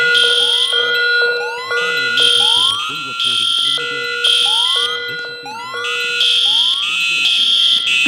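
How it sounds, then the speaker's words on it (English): Several building fire alarms going off at once: loud rising whoops overlapping steady electronic tones, continuous and close, with a voice audible underneath. "there are several fire alarms going off in the building"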